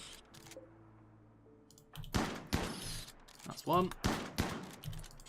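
Colonists firing guns in RimWorld, several sharp shots cracking in quick succession in the second half, moderately loud, with someone speaking briefly among them.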